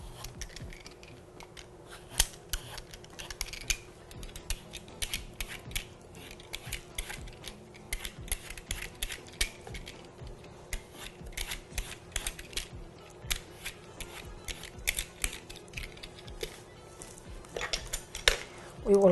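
Firm pears being peeled with a knife in a home kitchen, giving a steady run of small scraping and cutting clicks close by, with faint clatter of utensils beneath.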